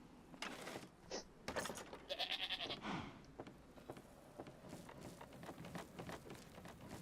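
Several sheep bleat in Minecraft with the DawnCraft modpack, in short wavering calls over soft game ambience and quick footstep-like patter, fairly close and moderately loud.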